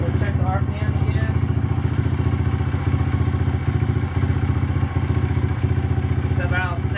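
A KLX140 dirt bike engine idles steadily and close by at about 1700 RPM, a low rumbling chug with a regular pulse and no change in pace.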